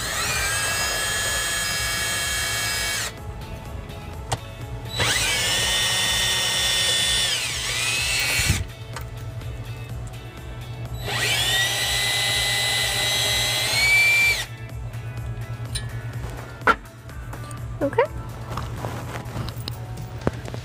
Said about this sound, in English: we're gonna use a 10 millimeter socket in our electric drill to just lower part of this panel here